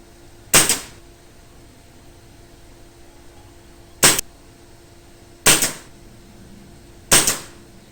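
A Crosman F4 .177 air rifle fires four sharp, crisp shots at a target, the first alone and the last three in quicker succession, each a short crack with a brief ringing tail over a quiet background.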